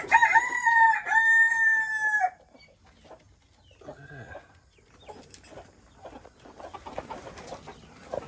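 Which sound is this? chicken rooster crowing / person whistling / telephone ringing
chicken rooster crowing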